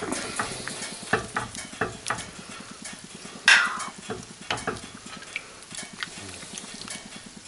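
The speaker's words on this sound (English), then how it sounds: "give it a stir and see where we are" Roasted chicken and tomatoes are stirred in a pan, with a soft continuous sizzle under rhythmic scraping strokes of a utensil and one brighter metallic clink, all close and without talk.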